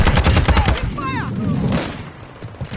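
Rapid bursts of automatic gunfire in the shooter game Modern Warfare 2, loud and close, rattling in dense volleys that thin out near the end, with voices shouting over the firefight.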